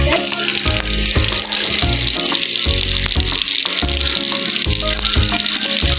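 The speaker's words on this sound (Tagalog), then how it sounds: "Ngayon po, lalagyan na po natin ng tubig." Water poured into a cooking pot while preparing pancit canton, a continuous splashing rush under a low kitchen clatter, loud and close throughout.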